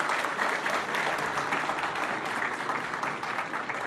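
An audience claps for an honored guest at a gathering, a short burst of dense, steady applause heard throughout.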